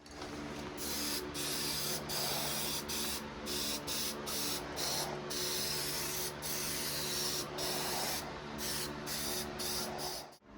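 Black spray paint hisses steadily onto a 4x4 mini jeep frame, long continuous bursts with short pauses between them, close and loud, with a constant mechanical hum underneath.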